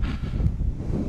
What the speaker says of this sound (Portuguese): Ventando, hein? Ventinho forte.